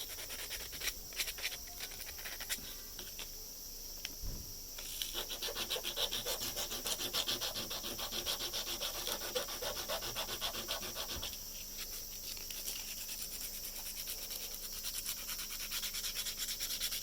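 Steady close-up rasping and rubbing as 3D pen plastic is filed down during an eyeglasses frame repair, starting lighter then becoming continuous and dense after a few seconds, with no talking.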